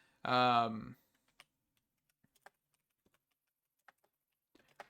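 Sparse, quiet keystrokes on a computer keyboard while searching for gear in the Modern Industrialization mod, a few isolated clicks following a brief vocal sound at the start.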